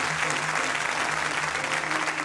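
A church congregation applauds loudly and continuously to acclaim the Lord's name at a morning service, a dense steady clapping with no talk over it.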